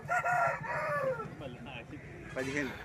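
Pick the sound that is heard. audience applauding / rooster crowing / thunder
rooster crowing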